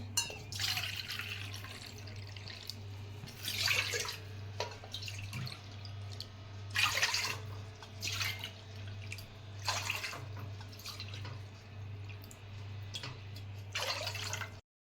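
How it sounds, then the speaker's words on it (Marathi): Five bowlfuls of water are poured into a pot with finger millet flour for papad, about five separate splashing bursts, fairly quiet, over a steady low hum. "पाच वाटे पाणी घालून घेते"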